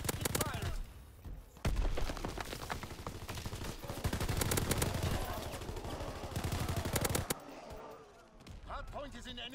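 Rapid automatic gunfire in a hardpoint match of a multiplayer shooter video game: dense, sustained bursts of rattling shots, loud and close, stopping briefly and resuming, with voices from the game talking over the shooting.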